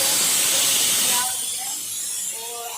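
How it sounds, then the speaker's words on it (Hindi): A pressure cooker whistles on a kitchen stove while vegetables cook. Loud, close steam hiss dominates the first second, then drops back to a softer rushing release. "एक सीटी और आ जाएगी सब्जी में"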